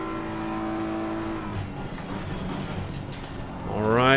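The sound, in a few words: front-engined race car lap in Assetto Corsa Competizione video game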